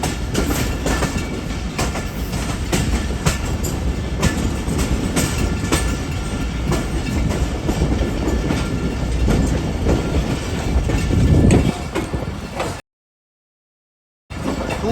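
Hazara Express passenger train rattling along the tracks in an old, run-down coach, a steady loud clickety-clack of wheels and carriage noise that continues for most of the stretch before a brief cutout.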